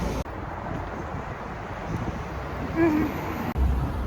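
Steady cold wind rumbles and buffets a microphone outdoors in Kyiv, a continuous broadband roar with occasional gusts.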